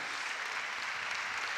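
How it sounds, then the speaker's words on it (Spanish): An audience claps steadily to welcome the mayor at a drag gala in Arrecife, a dense, even wash of applause filling the short moment without any voice over it. "Vamos a dar la bienvenida al alcalde y lo hacemos con un aplauso."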